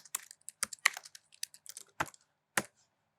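Quick, irregular clicking of computer keyboard keys as a short test email is typed, close and crisp with brief pauses between bursts, no speech.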